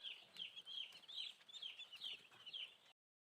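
Four-day-old broiler chicks on a poultry farm keep up a busy chorus of high, shrill peeps that overlap in quick bursts, then cut off abruptly near the end.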